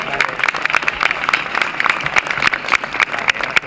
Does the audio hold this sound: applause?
yes